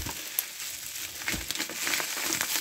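Plastic wrapping being torn and crinkled off a VHS or DVD package, a close, scratchy rustle with a few sharp crackles, heard alone without talk.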